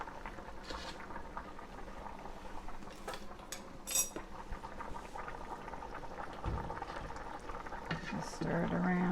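A pot of food simmering while it is stirred, with a spoon scraping and clinking against the pan over a steady bubbling hiss, close by, with brief voice-like sounds near the end.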